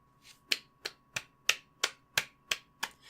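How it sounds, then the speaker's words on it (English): Steady clapping in an anime episode: about nine crisp, evenly spaced claps at a brisk, regular pace, clear and alone. "And then everybody stops clapping."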